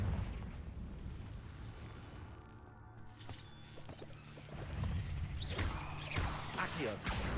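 A Confringo spell explodes in the game Hogwarts Legacy, as a rumbling blast that swells and builds toward the end amid other game effects, over mixed background sound.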